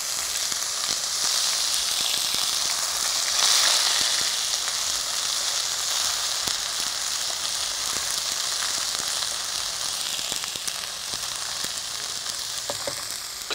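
Ginger garlic paste and coriander sauté in ghee, a bright, even crackling sizzle that runs steadily throughout with scattered sharp pops, close and continuous, with no voices.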